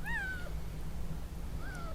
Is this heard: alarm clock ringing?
no